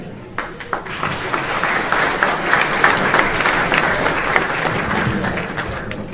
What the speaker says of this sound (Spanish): aplauso para ti